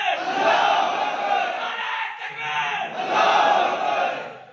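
A crowd at a political rally chants the Nara-e-Takbir slogan in unison, rising in two loud, roaring swells of massed voices with a short dip between them.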